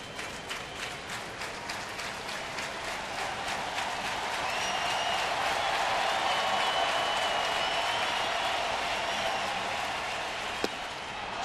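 A baseball crowd at Busch Stadium in St. Louis, Cardinals against the Nationals, claps in rhythmic bursts that swell into a sustained roar and cheering, loud and broad, with no talk over it.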